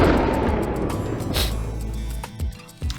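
A mid-distance gunshot sound-effect layer: a heavy, booming blast that decays into a rumbling tail, then two shorter, fainter cracks near the end, alone without speech.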